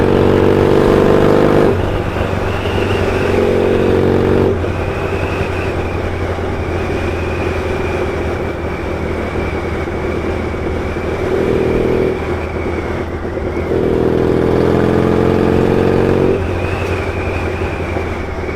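An old rigid motorcycle with poor brakes drones loudly and steadily while being ridden, its engine note rising and falling in a few surges of revving under constant wind and road noise.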